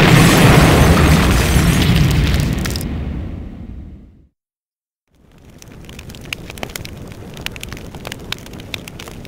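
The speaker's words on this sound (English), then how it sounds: "Everything's going to explode!" A huge explosion in a PlayStation 2 video game cutscene for Diabolik: The Original Sin, a loud roaring blast that fades into near silence before crackling debris and fire return, close and alone.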